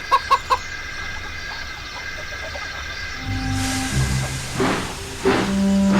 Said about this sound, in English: So the chickens were unloading.